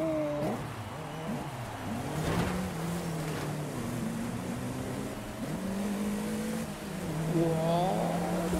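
A car in the racing game Forza Horizon 5 drives with a steady engine drone that rises and falls through gear changes and revs, continuous and fairly loud for the whole stretch.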